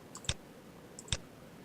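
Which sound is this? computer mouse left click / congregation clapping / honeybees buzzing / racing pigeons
computer mouse left click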